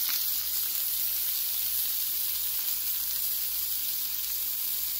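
Butter sizzles steadily on a hot Blackstone griddle beside cooking pork butt steaks, a loud, even, close frying hiss that carries on unbroken with no talking.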